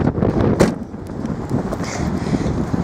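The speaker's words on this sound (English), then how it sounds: "It's so windy." Strong wind buffets the microphone outdoors in a steady, low roaring rumble with gusty surges and no voices.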